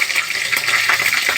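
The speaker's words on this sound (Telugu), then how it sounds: "ఇప్పుడు మనము బాండీలో ఆయిల్ పెట్టుకొని ఇవన్నీ ఫ్రై చేసుకుందాము" Green chillies and curry leaves fry in hot oil in a kadai, giving a steady, bright, crackling sizzle with small pops, close and fairly loud, with no speech.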